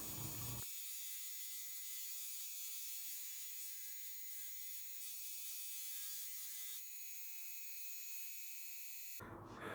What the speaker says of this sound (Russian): Далее полирую рукоять на волочном круге.